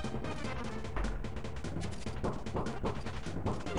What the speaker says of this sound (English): those cannons are just way too close